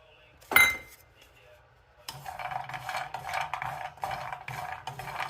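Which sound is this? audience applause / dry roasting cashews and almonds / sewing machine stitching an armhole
dry roasting cashews and almonds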